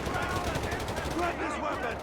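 Rapid MG-42 machine gun bursts in Company of Heroes 3 rattle densely and loudly for a couple of seconds, mixed with battle noise and a voice talking over the gunfire.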